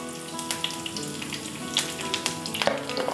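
Ginger, garlic and curry leaves fry in hot coconut oil, giving a steady close sizzle with scattered crackles and pops over the full few seconds.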